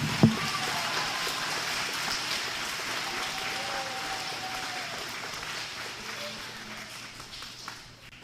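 An elementary school crowd at an Arbor Day celebration applauds and cheers for a utility board, with a diffuse, moderately loud wash of clapping that slowly fades, under a voice.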